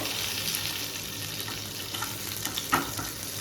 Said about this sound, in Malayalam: ചൂടായ വെളിച്ചെണ്ണയിലേക്ക് ഉലുവ കടുക് വട്ടൽമുളക്